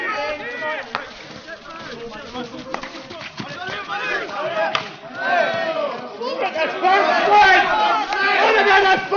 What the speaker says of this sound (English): Sounds like some of the Clydesdale spectators haranguing the umpire.